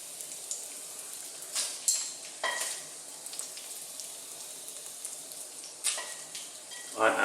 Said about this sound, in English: Got my bacon nice and hot onto that butter, still sizzling, you can see.